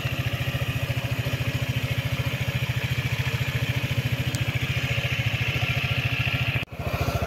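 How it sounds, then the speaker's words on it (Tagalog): A stock ATR 160 scooter engine running steadily at idle, close by, with a rapid, even low thumping pulse and a brief break near the end. "Ito naman ang tunog ng kanyang makina. Stock po ang ating ATR 160"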